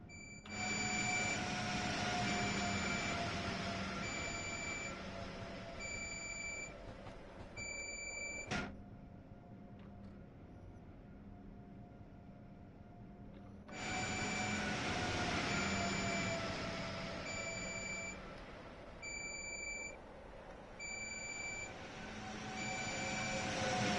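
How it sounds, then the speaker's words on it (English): An electric train rolls along in Train Sim World 4 with a steady low rumble of wheels and motor, punctuated by repeating high electronic beeps of a cab alerter and a brief sharp click midway. "And that's your train running round."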